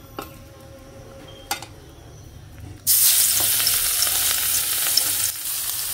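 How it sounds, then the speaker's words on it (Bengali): Fish hit hot oil and burst into a loud, steady sizzle after a few quiet kitchen clicks, the frying hiss continuing close up to the end with no talking. "এখন মাছগুলো দিয়ে দিব।"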